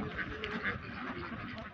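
Large Peking ducks on a duck farm quack repeatedly in short, soft calls over a low background murmur.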